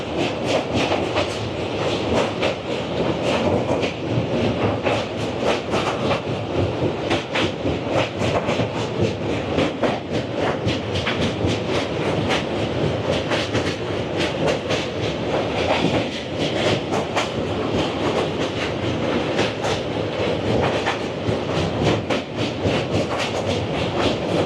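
Garib Rath Express train from Agartala to Kolkata runs along the tracks near the Doyang river, a loud, constant rumble with steady rhythmic clickety-clack of the wheels throughout, recorded from on board.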